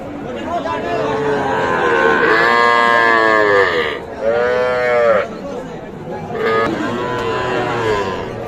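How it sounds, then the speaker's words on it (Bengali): Young bull calves at a cattle market moo in long, loud, drawn-out calls, three in a row with brief pauses between, close by, with faint crowd murmur underneath. "আমরা এই পাশে যেগুলো দেখছি এগুলো কিন্তু সব বাছুর তবে সব ষাঁড় বাছুর"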